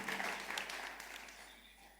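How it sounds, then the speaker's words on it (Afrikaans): A church congregation claps together in a burst of applause, loud at first and thinning out over about two seconds. "Kom ons klap ons hande."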